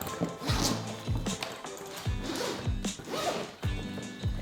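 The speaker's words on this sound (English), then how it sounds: "To get inside to where the main compartment is, just these zippers right here." Zippers pulled open around the main compartment of a Nomatic camera bag, a series of close, quick rasping zips in several separate strokes with short pauses between them.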